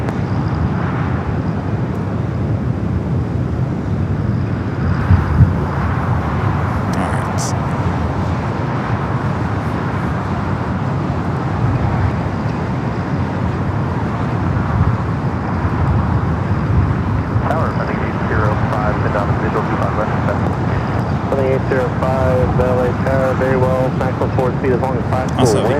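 Air France airliner at LAX, a broad, steady jet engine roar that runs throughout, with a voice talking over it and a whining tonal hum rising near the end.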